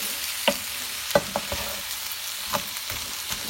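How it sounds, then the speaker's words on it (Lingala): Rice fries in a pan with a steady close sizzle, broken by a few sharp stirring clicks and scrapes. "Tozo kalinga ngo kaka, tozo koba na kokalinga."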